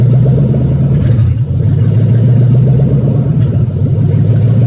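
A 6.1 Hemi engine idling on FAST EZ-EFI fuel injection with an MSD Hemi6 ignition controller, as a loud, steady, close low rumble that wavers slightly while the idle hunts.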